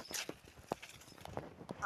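A bull walking produces a few faint, irregular hoof knocks on the ground, spaced unevenly against a quiet outdoor background.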